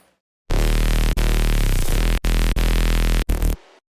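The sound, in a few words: bass music synths without reverb throw automation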